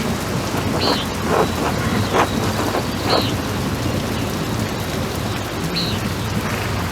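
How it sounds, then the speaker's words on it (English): Steady, dense rain pours continuously in the medieval-set video game Pentiment, with a few brief faint chirps over it and no talking. "This rain is turning everything to mud."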